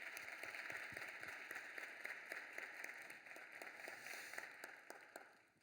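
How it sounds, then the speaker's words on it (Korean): A church congregation claps steadily in welcome during a Sunday service, a dense, even patter of many hands that carries on without a break and fades slightly at the end. "우리 인사하실 때 우리 큰 박수로 환영해 주시기 바랍니다"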